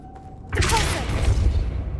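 A Depulso knockback spell goes off in Hogwarts Legacy, a sudden loud whooshing burst with swirling magical tones that carries on as a sustained rumble for over a second after the hit.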